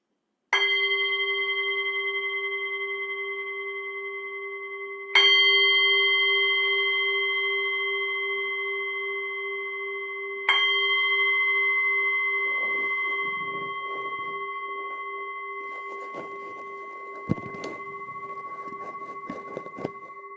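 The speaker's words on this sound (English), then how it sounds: "I will just ring the bell 3 times" A meditation bell struck three times at roughly five-second intervals, each a clear sustained ring that slowly decays, alone and resonant, with faint room noise as the last tone fades.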